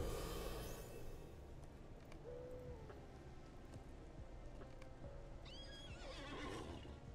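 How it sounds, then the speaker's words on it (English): Horses in The Lord of the Rings Online neigh and whinny at a moderate distance, with a descending whinny midway and another near the end, over soft clip-clop hooves and a steady rain-like ambient wash. "These horses are really starting to get on my nerves."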